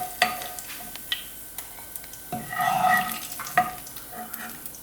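Onions sauté in the leftover oil from frying potatoes, heard as a faint crackle punctuated by sharp spatula clicks and a brief swell of sizzling from stirring midway, with no speech.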